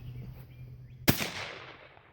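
A single shotgun blast fired at a thrown target outdoors, one sharp loud crack with a fading tail, set against quiet wind and low background hum.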